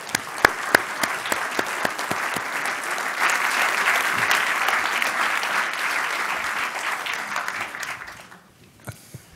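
An audience breaks into sustained applause to welcome photographer Stephen Shames at an archive announcement event, a dense steady clapping that holds for several seconds before fading out, with a few isolated claps at the end.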